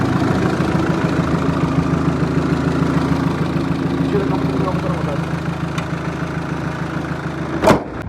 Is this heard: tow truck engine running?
yes